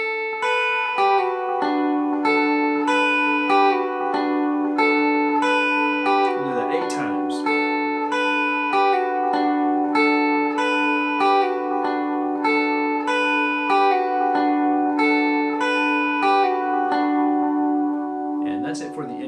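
A lead guitar plays the intro riff of O Holy Night, clean picked notes ringing in a repeating melodic pattern with sustained tones, close and clear, with no talking over it.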